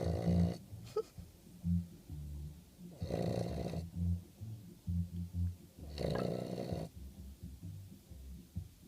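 English bulldog snoring close up, three long rasping, rumbling breaths spaced about three seconds apart, with wheezy snorts and softer breathing between them.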